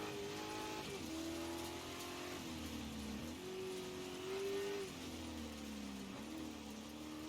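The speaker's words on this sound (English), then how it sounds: "Baja truck." A Baja truck's engine drones steadily while driving in the racing game Dirt 5, its pitch rising and falling with gear shifts over constant road noise, loud and alone for several seconds.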